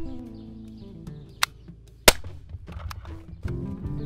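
A .50 caliber killer spikes round is fired at a coconut outdoors, one sharp, loud report cracking out in the middle of the clip, followed by smaller impact noises and low rumbling.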